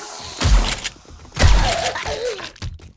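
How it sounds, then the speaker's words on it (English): Books being smashed and destroyed in the survival game 7 Days to Die, two heavy thudding crashes with a crunchy breaking tail, followed by a lighter knock near the end. "Ah, I destroyed books just now."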